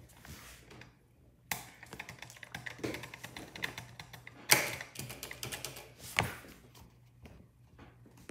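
Keys clatter on a computer keyboard during PC gameplay, irregular bursts of clicks and taps with a few sharper hard strikes, close and fairly loud, no talking.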